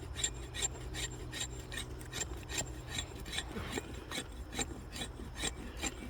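A Condor Moonshiner knife spine is dragged across wood to raise fine feathers and shavings for a fire steel, making a close, steady series of dry rasping scrapes in an even, repeated rhythm with no talking.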